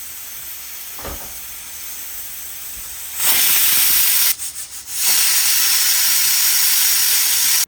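A pressure cooker vents steam in a loud, hissing rush that starts abruptly, briefly sputters and falls away, then surges back and cuts off at the end, with quieter background noise before it.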